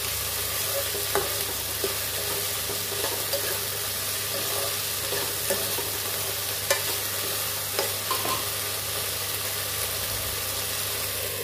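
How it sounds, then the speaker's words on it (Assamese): Dhekia fern greens with potatoes being stirred and frying in a pan, a continuous hiss and sizzle with occasional scraping clicks of the spatula, close and steady, with no talking. "ভালকৈ লৰাই দিম"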